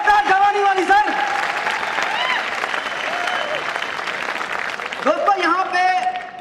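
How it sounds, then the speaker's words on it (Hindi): A hall crowd applauds at an Asclepius Wellness event in Jaipur, with sustained loud clapping throughout and a voice talking over it at the start and end. "सभी लोगों के लिए तालियां होनी चाहिए, जोरदार तालियां, जबरदस्त तालियां"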